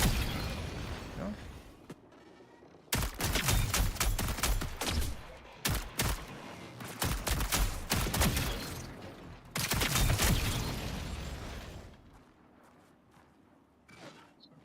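Rapid gunfire in a video game as a sniper takes precision shots at bots, loud bursts and cracks coming in several dense clusters with brief quieter gaps between them.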